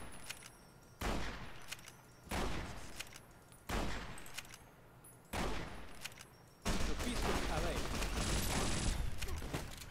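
Gunfire in Fallout New Vegas: loud bursts of shooting arrive in four short volleys with pauses between them, then a longer sustained barrage at the end, up close and with no voices over it.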